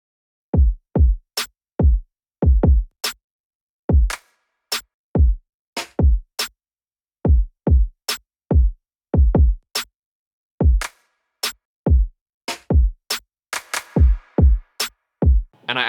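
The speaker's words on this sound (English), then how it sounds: "what we've got is my kick, my snare, this clap, and then another clap." Programmed drum loop of punchy kick, snare and two claps in a steady repeating pattern, close and loud, with an extra clap burst near the end of the loop.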